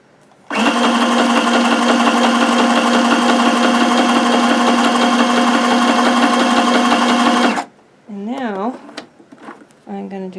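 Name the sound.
sewing machine sewing a medium zigzag stitch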